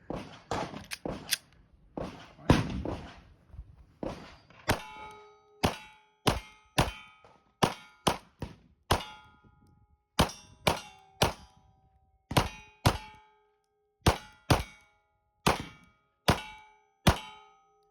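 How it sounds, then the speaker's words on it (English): A Sig Sauer P320 X Carry Legion pistol fires a steady series of single shots at steel targets. Each crack is followed by a ringing metallic clang, repeated about twenty times at an even pace. "brother's gonna shoot the Sig next"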